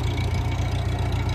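A tractor engine rumbles steadily and loud at close range while a log is held tight on its winch, the low drone carrying a faint repetitive ticking, with no voices.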